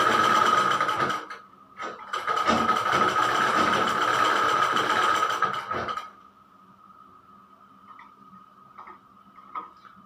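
A sewing machine stitches along the edge of a one-year-old baby's summer frock, running in a steady close rattling whir for about six seconds with one brief pause, then stopping and leaving faint ticking.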